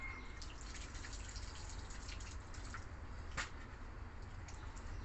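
Water pours and trickles out of a hacked-open part of a top-loading automatic washing machine, a steady low gush with scattered drips, moderately close and continuous.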